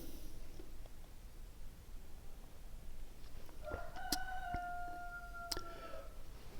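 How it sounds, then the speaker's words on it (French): A rooster crows once in the middle distance, a drawn-out cock-a-doodle-doo over a steady outdoor background hiss. A few sharp clicks and rustles follow. "Si j'entends encore ce putain de coq aboyer, je lui en colle deux dans sa gueule."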